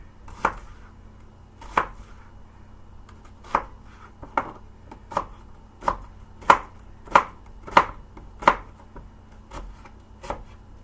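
A knife chops an onion on a cutting board into small pieces, about a dozen crisp, evenly spaced thuds repeating at a steady, unhurried pace, close and alone.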